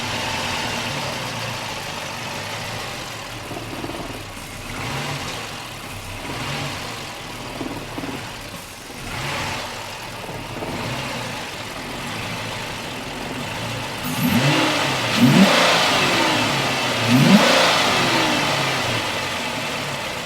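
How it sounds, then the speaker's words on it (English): A cheap used V8 Dodge Charger runs at idle with a steady low engine rumble, its fuel pump kicking on, and a couple of louder revs near the end; no one speaks. "The fuel pump sounds like it's kicking on good"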